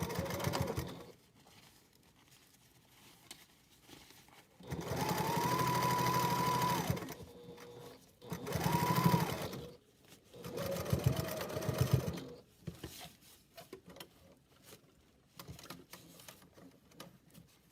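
A home sewing machine stitches a fabric packing cube in several bursts of steady, close whirring and needle rattle, with quiet handling noise in the pauses between runs.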